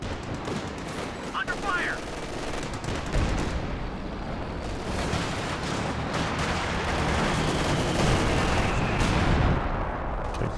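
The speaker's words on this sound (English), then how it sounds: "And Flap trying to barrage it down." Artillery barrage and gunfire from a Company of Heroes 2 multiplayer battle, with dense, continuous rumbling blasts and crackling shots, someone commentating over the din.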